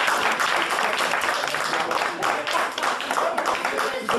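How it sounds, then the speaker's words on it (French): Guests at a family birthday party in Lachamp-Raphaël clap for the organisers, a close, lively burst of many hands with uneven bright claps and a few scattered voices. "Tous les applaudissements pour tous ceux qui ont organisé cette fête de famille"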